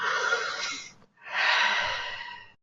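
Two long, deep breaths, close and breathy, an inhale and an exhale separated by a brief pause, with no talking.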